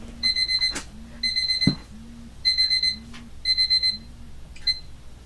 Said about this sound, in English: That's my medicine timer.